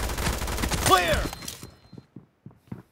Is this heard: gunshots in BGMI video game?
yes